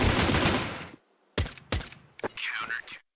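Pistol shots ring out in Counter-Strike 2 during a tournament group-stage match: a loud burst of fire, a brief gap, then several sharp, separate cracks in quick succession.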